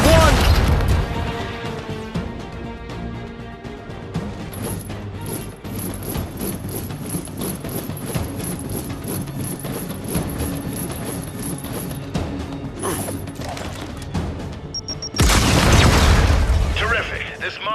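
Frag grenade explosions in the video game Gears 5, heavy booms and crashes at the start and again near the end, with dense game sound effects and voices running underneath throughout.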